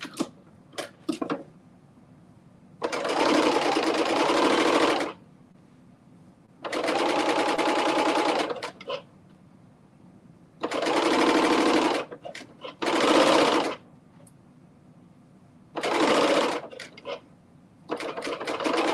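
A serger stitches a reversible tank top in several loud, sustained bursts of rapid mechanical whirring, separated by short pauses with quiet handling noises.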